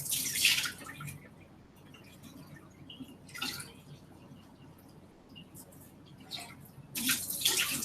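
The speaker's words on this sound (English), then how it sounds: "Always rinse your bowl so it doesn't stick." A bowl being rinsed under a running tap at a sink: splashing bursts of water come and go in several bouts, loudest at the start and end, with quieter trickling and faint handling between.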